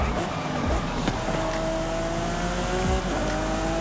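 A 2018 Lamborghini Aventador SVJ in Forza Horizon 5 holds a loud, steady engine roar as it accelerates, with rising tonal whine and tyre noise throughout, close and continuous.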